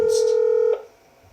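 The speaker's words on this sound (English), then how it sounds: "Now let's make a call to the number." Touch-tone DTMF dialing on a Panasonic DECT 6.0 Plus KX-TG6541B cordless handset: a steady, loud dual-tone beep holds for most of a second, then cuts off into quiet room noise.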